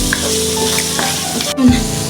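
Prawn legs from a giant freshwater prawn korma sizzle steadily in a hot pan, with occasional scrapes and clicks of stirring over a continuous close, loud frying hiss.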